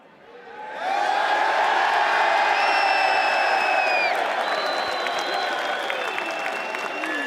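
A large arena crowd at a PGL Cluj-Napoca 2026 esports playoff roars with sustained cheering, applause and whistles, swelling in after the first second and staying loud and dense throughout.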